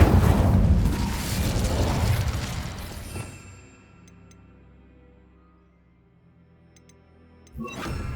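A fiery Incendio spell bursts in the Hogwarts Legacy video game: a loud roaring whoosh of flame for about three seconds fades into a quiet, humming ambience, followed by a short sharp hit at the end.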